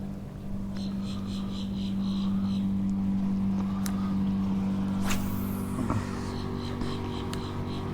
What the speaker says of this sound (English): A lot of traffic out on the water already.